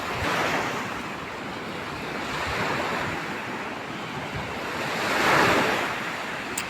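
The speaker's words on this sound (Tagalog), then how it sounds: "Dagat, malakas ang alon" Strong sea waves break on a beach with a steady roar of surf and wind buffeting the microphone. The roar swells loudest toward the end, and no one speaks.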